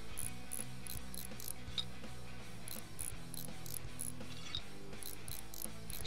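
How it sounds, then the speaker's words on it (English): A wheel hub is bolted on in the Farm Mechanic Simulator 2015 game, heard as steady, repeated metallic ratcheting clicks over a constant low mechanical hum, with no speech. "let's bolt it together in the cross pattern"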